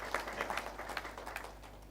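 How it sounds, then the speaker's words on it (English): Audience applause for a company CEO at a schools quiz tournament, a brief scattered burst of clapping that sounds faint and distant, thinning out over two seconds. "Well, another resounding round of applause to our"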